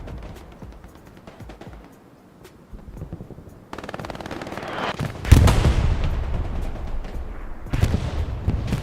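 Artillery barrage in Hell Let Loose on the Hürtgen map, a build of distant rumbling gunfire swelling into heavy booming impacts and rapid crackling bursts that stay loud through the second half.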